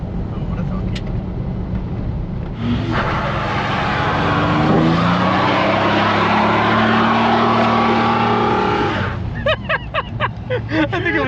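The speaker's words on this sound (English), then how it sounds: "now we are gaining speed at under 2 grand in fifth gear" A Toyota 4Runner engine pulls at low revs in fifth gear, a steady low drone with road and wind noise that swells in the middle, heard from inside the vehicle with people talking at the start and end.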